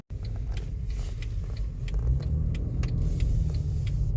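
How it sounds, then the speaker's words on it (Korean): Inside a Mercedes E-Class W212 on the road, a steady low cabin rumble carries a scattering of faint, sharp clicks and ticks from a rattling panoramic sunroof. "E클래스 썬루프 소음으로 입고됐는데요."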